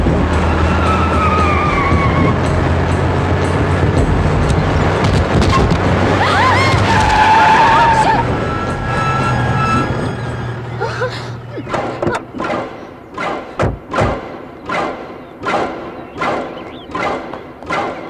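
A car runs someone over in a movie fight scene: roaring engine and skid give way to a heavy thud, then a run of sharp repeated impacts and crashes, loud and close, with music and shouting voices.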